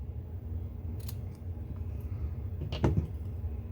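Scissors snip through paper around a leaf shape made with a Creative Memories leafy vine border punch, a few close, quiet cuts with a sharper crunch near the end over low room hum.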